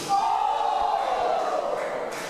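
Wrestling crowd at a ladder match with Italian fans cheering for Ashley Dunn, a loud sustained roar of many voices that swells and then slowly fades.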